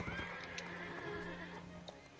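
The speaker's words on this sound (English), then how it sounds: "I hate the whole bucking horse thing when you get caught on something." A horse neighs and whinnies in the Mount and Blade 1866 video game, with hoof clip-clops and battle sounds behind it, steady and fairly close across the short stretch.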